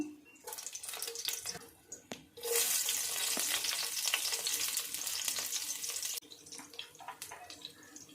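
Garlic and chili frying in hot oil for pasta: a soft sizzle with stirring clicks surges into a loud, dense hiss for a few seconds, then drops back to a gentler crackle; no talking.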